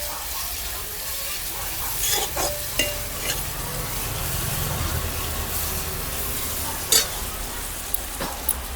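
Kerala-style beef curry being stirred in a pan, with a continuous frying sizzle under repeated scraping and clinking strokes of a spoon against the pan, close and fairly loud.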